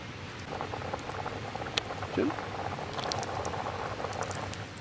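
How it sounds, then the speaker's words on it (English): Water bubbling at a rolling boil in a pot, a continuous churning patter with a few brief clinks over it. "Water is then added and brought to a boil."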